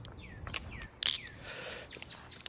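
A Benchmade 42 balisong knife clacks in quick, irregular bursts of sharp metallic clicks close by. Birds chirp faintly in the background.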